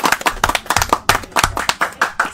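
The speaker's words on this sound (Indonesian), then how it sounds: "Tepuk tangan." Audience at an Indonesian youth anti-narcotics event clapping hands in a steady, rhythmic unison beat, about two claps per second, close and fairly loud with no talk over it.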